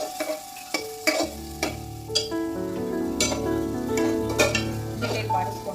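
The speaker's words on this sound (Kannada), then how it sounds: "ಎಲ್ಲ ಒಗ್ಗರಣೆಗಿರೋ ಆನಿಯನ್, ಟೊಮೊಟೊ, ಒಂದೆರಡು ಹಸಿಮೆಣಸಿನಕಾಯಿ ಹಾಕ್ತಾ ಇದ್ದೀನಿ. ಈ ಮೂರು ಇಂಗ್ರೀಡಿಯೆಂಟ್ನ ಫ್ರೈ ಮಾಡ್ಕೊಳ್ಳಿ." Onion, tomato and green chilli frying in a pan for a rajma gravy, with a steady sizzle and repeated clinks and scrapes of a spoon stirring, close and fairly loud with no talking.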